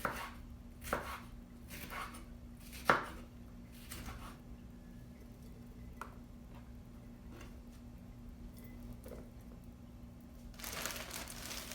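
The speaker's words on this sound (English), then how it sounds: "And this one I will chop up for my jar." A knife taps sharply on a cutting board in scattered chops with pauses, close and quiet, followed by faint rustling, as raw vegetables are chopped for a mason jar salad.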